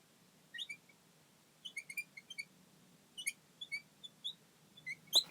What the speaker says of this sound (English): Check out some of the singing birds that I heard today.